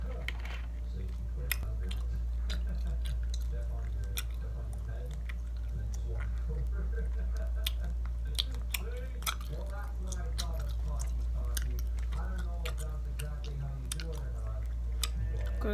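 Sour candies are chewed close up, with soft wet squishes and small clicky bites over a steady low hum, and a few faint voice-like murmurs mixed in.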